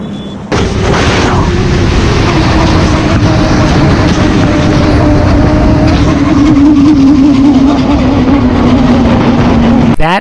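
A Kawasaki Ninja ZX-6R style sport motorcycle in a tank slapper, played back as a recording: a loud roaring engine and wind rush at speed with a sustained droning tone, heavy and continuous from a sudden start, no talk.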